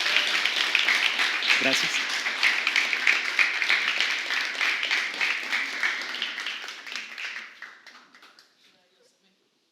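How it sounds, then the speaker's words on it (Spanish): A church congregation at an Easter service claps steadily in a sustained round of applause with one brief spoken word early on, the clapping thinning and fading out near the end. "dar un aplauso a Jesús, por favor"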